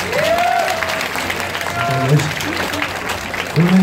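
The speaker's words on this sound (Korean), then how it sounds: "저기 하자한테 박수 한번 쳐줘요." Audience applause at an outdoor gakseori pumba comedy performance in Jain, Gyeongsan, a dense clapping patter that holds steady throughout while voices speak and call out over it.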